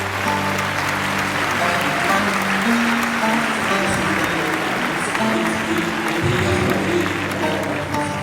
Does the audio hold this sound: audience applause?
yes